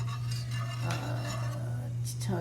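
A tiny whisk clinks and scrapes against a pan while stirring a roux, a steady light metallic rattle running continuously beneath a constant low hum, with a few brighter clinks near the end.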